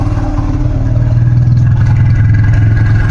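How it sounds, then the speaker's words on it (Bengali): A motorcycle engine held at about 2000 RPM before an oil change, a steady loud mid-pitched drone with a fine clattering texture, running alone without talk. "2000 আরপিএমে আমার গাড়ির সাউন্ড দেখুন কীরকম"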